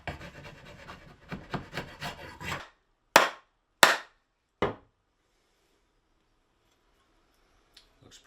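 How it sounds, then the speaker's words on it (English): Several rough scraping strokes on a wooden axe handle give way to three sharp, separate knocks as a Damascus Viking axe head is pounded back onto its wooden handle, then near silence. "We're almost done, and we'll pound it back in."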